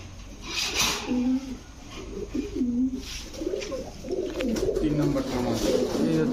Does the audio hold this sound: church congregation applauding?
no